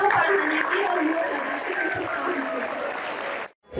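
An audience of students in Aligarh claps for a fellow student, a dense steady burst of applause lasting a few seconds before cutting off abruptly.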